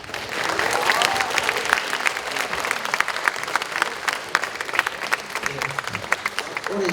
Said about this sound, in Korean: 우리 학생 여러분 힘찬 박수 다시 한번 부탁드리겠습니다